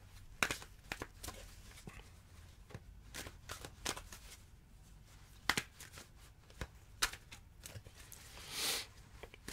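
Tarot cards handled and shuffled up close in a quiet room, with crisp irregular flicks, riffles and soft paper slides, plus a brief louder brushing swish near the end; no voices.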